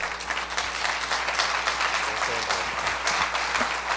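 A church congregation breaks into steady, lively applause, dense clapping holding for several seconds with some voices mixed in beneath.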